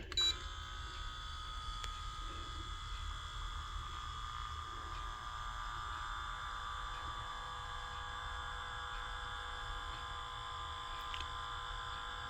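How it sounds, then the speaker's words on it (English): Small RC winch motor on a Cross RC Emo X3 tow truck lifting a TRX4 Killer Wasp truck, a steady thin electric whine and hum running continuously, fairly faint and close, no talking. "I got the winch hooked up to the front of my my TRX4 Killer Wasp, and let's watch it pick up."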